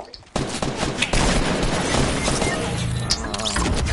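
Rapid gunfire from a weapon in Fortnite, a dense burst of loud close shots in quick succession after a brief quiet start, continuing as a crackling fusillade.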